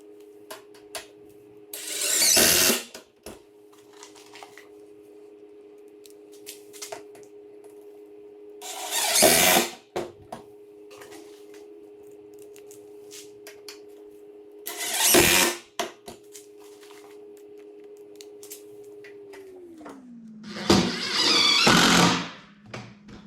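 A power drill drives 1¼ inch self-tapping pan head screws into the wood panel of a raised garden bed in four short loud bursts, spaced several seconds apart over a steady low hum.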